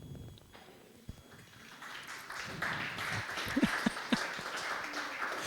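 Meeting attendees at a cooperative's general assembly clap to approve the agenda by acclamation, a moderate, fairly close applause that builds over several seconds with a few sharper individual claps standing out.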